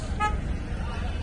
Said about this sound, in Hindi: सॉरी होटल वाले को हॉर्न मार रही हूँ।